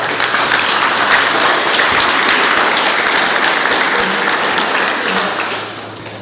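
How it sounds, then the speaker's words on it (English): Loud, sustained applause from a large audience at a talk, a thick continuous roar of clapping that holds steady for several seconds and then begins to ease off. "If we could give them a round of applause, please."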